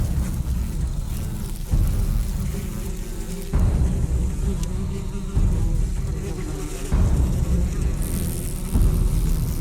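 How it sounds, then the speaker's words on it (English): Yellow jackets in Japan buzzing as they take off from their hive: a dense, continuous, close insect drone that fills the scene, with abrupt shifts in loudness every couple of seconds. "A yellow squadron takes to the air, leaving their sentries to defend the hive."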